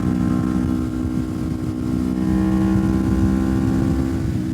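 A Yamaha YZF-R3 motorcycle engine, 2025 model, drones steadily while riding, a low hum at constant speed mixed with wind rush and no talking.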